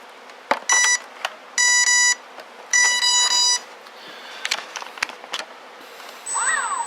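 RC car electronics beeping at power-up: three loud, even electronic beep tones in sequence, followed by small clicks and a rising and falling chirp near the end.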